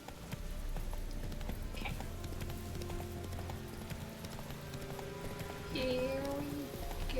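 Horse hooves clip-clop at a steady walking pace in the video game Witcher 3, under a continuous ambient bed, with a short whinny near the end and a brief spoken word.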